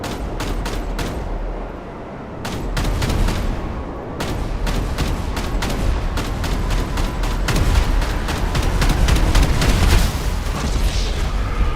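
A fully loaded Ruiner 2000 is pounded by explosive rounds in GTA, heard as a long, loud barrage of sharp blasts and rapid bursts, with dull booms underneath and no talk.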